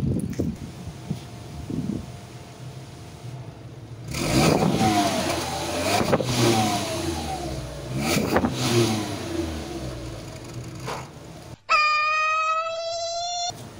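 A car engine fitted with a homemade whistle exhaust tip revs up in several loud, close bursts over an idling base with some wind noise, then cuts off abruptly.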